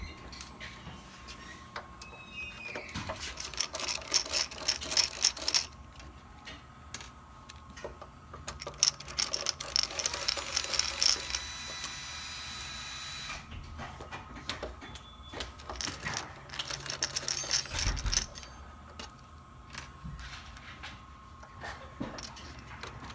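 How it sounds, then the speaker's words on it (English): Four silver screws come out of the front can of a Flex+Matic motor housing, close, dry clicking and ratcheting in repeated bursts with short pauses, metal parts rattling and tapping between them. "Then you're going to want to take out the 4 silver screws that hold in the front can."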